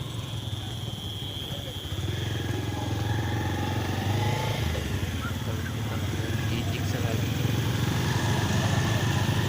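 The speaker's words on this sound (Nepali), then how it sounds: "अघिको बाइक थियो नि गाइस उहाँहरूको बाइक हो" A motorcycle engine drones steadily nearby on a farm road among orchards and fields, its level rising after a couple of seconds as it passes, with a constant low hum throughout.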